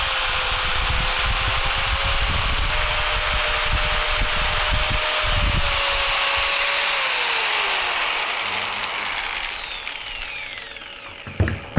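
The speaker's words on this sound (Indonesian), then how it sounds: "mulai dari yang gerinda dulu saya coba nyalakan. Kemudian bornya saya nyalakan juga." An angle grinder and an electric drill run together off an EcoFlow River portable power station, a steady, high mechanical whine with motor hum that winds down and fades near the end.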